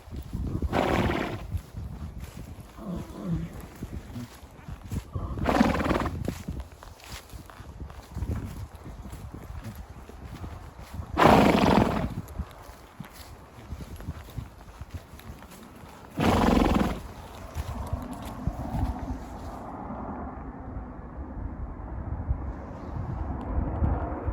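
Horse hooves on a trail ride on a cool sunny day, a loose rhythmic clip-clop of steps with scattered louder snorts or blowing bursts, close by and moderately loud, with rustling and tack noise in between.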